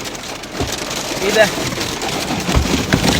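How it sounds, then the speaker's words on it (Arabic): Heavy rain pours onto a car as a dense, constant wash of drumming that lasts throughout, while people talk excitedly over it in Arabic. "ده مش حد بيدلق ميه على العربيه، ده صوت المطره بجد"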